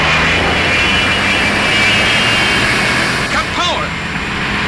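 Loud, continuous jet engine roar from a Fireflash airliner in the Thunderbirds episode, with a deep rumble and high whine and brief voices breaking through near the end.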